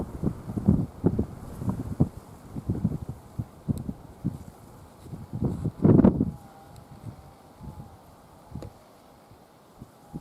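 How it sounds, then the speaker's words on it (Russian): Strong wind buffets the microphone in uneven gusts, with rustling and a louder blast midway, outdoors and close. "Ой, ветер опять сильный."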